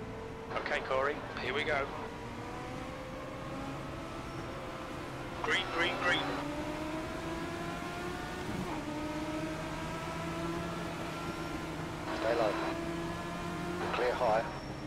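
A Legends race car engine at USA International Speedway in a racing video game drones continuously, its pitch repeatedly climbing through rising rev sweeps, with a few short voice bursts over the top.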